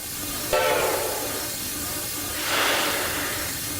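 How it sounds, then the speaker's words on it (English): A simulated locomotive on the Durango & Silverton line in Train Simulator Classic gives a loud steady rumble with two bursts of hissing steam-like noise, one sharp near the start and another swelling later. "I think I am in control of this locomotive."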